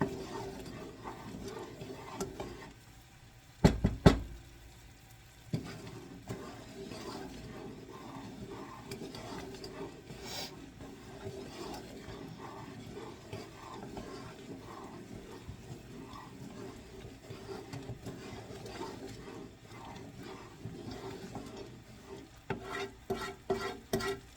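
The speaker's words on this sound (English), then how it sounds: "It's starting to boil, so I'm going to start timing it for 5 minutes." Chocolate fudge mixture boils in a pan on the stove, a faint steady bubbling and sizzling with occasional stirring clatter, including a sharp knock early on and louder scraping near the end.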